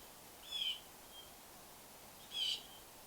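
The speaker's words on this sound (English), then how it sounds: "and all you can hear is birds." Two short, high-pitched bird calls, about two seconds apart, ring out against a quiet, still background with nothing else audible.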